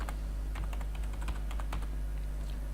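Steady typing on a computer keyboard, soft close key clicks in an uneven rhythm over a constant low hum, with no voice.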